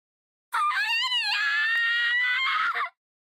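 A female character in the mobile game Atelier Resleriana lets out one long, loud, wavering scream that lasts about two and a half seconds, alone and close up.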